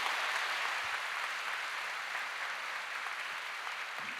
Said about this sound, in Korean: 우리 큰 박수로 격려하고 축복하며 맞겠습니다